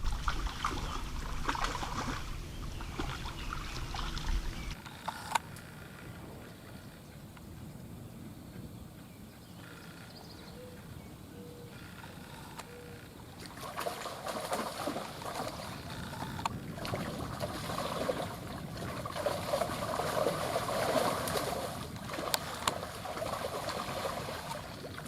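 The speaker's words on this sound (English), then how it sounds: "Hear that splashing over there under the trees?" Spawning carp splash in a green summer lake beneath overhanging trees, giving scattered, faint, distant splashes and watery rustles over a steady outdoor background.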